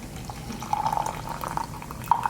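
Hot water poured into a cup, giving a soft, steady trickle with gentle bubbling and a rising filling tone, close by and quiet, lasting a couple of seconds without speech.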